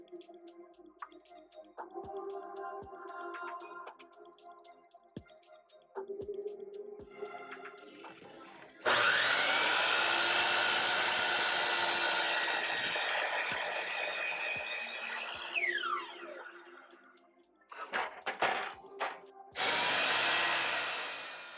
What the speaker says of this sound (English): First thing we're going to do is cut our 4x4s into our legs.